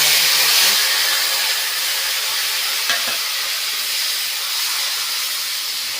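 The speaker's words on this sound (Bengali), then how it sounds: "ঘুগনি করবো বলে ফোড়নে দিলাম তেজপাতা, শুকনো লঙ্কা, জিরে" Bay leaf, dried chili and cumin tempering in hot oil for ghugni, a loud, steady sizzle and hiss that runs throughout without a break.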